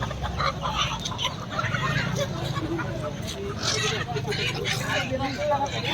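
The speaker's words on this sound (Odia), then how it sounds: "ଓଡ଼ିଶାର ଇଏ ହେଉଛି ବେକ ଛେଲା କୁକୁଡ଼ା" Naked neck chickens at a busy Odisha livestock market cluck and squawk repeatedly, close and loud, under steady chatter and crowd babble from people nearby.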